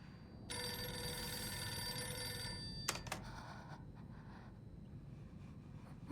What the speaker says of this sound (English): Meantime, let's answer the phone.